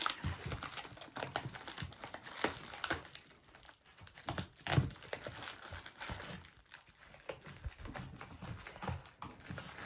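Wrapping around a package of grapevine cuttings crinkles and rustles as it is unwrapped by hand, with continuous close, uneven scrunching and scattered sharp crackles and taps.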